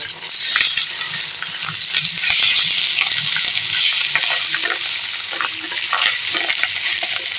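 Fish roe frying in a kadai with just a little oil, a steady loud sizzle and crackle that swells and eases with occasional stirring scrapes, close up and free of talk.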